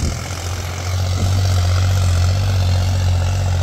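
A John Deere 5210 tractor engine labours steadily while pulling an 18-disc harrow in D2 gear, a loud continuous low drone that swells slightly after the first second and holds constant, with no voices.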